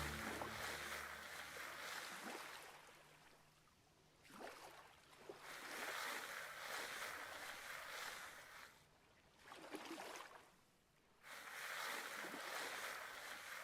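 A stream in Vintage Story washes around a player standing in it. The water is a soft, steady rushing and swishing that swells and fades in gentle waves, faint and continuous with no voices.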